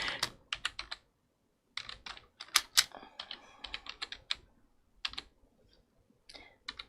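Close, crisp keystrokes on a computer keyboard come in irregular bursts with brief pauses between them, and there is no talking.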